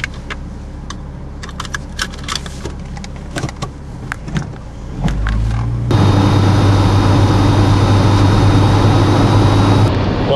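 A car at night at the start of a 100-mile drive: scattered clicks and rattles inside the cabin, then the engine catches and settles into a steady, close, droning hum that continues to the end.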